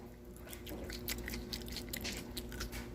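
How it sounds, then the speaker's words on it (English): Crisp stir-fried onion and pepper are bitten and chewed up close, giving a quiet series of small crunchy snaps and moist chewing sounds in an irregular rhythm. "See? Little crunch."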